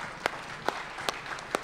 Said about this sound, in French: Je vais laisser la place aux applaudissements.